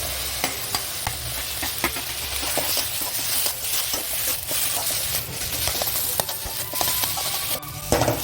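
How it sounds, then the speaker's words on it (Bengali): Mashed banana flower and potato stirred and scraped in a hot pan with a soft sizzle, spoon strokes clicking against the metal at an uneven rhythm, close and fairly quiet with no voices. "এবার আমি এর মধ্যে ম্যাশ করে রাখা মোচা আর আলুটা দিয়ে দিচ্ছি।"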